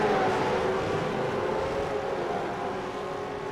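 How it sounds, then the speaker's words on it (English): V8 race cars in a sim race at Winton roar off the start line together, a dense, loud, steady engine drone that eases slightly as the pack pulls away, with no voices. "Cars are revving and they're off."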